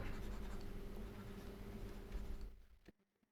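A pen scratches continuously across paper while a math answer is written out by hand, a steady soft scraping that stops abruptly before silence at the end.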